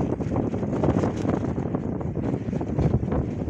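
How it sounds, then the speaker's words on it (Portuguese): Strong outdoor wind buffets the microphone in the Aguada Nova district during August, a steady loud rumbling roar with no voices. "Muito vento aqui."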